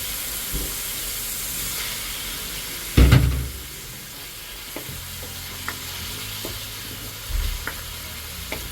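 Chicken tossed into a pan of Cebuano-style pinakbet vegetables gives a loud sizzling burst, then settles into a steady low fry broken by scraping stirs and clanks of the spoon.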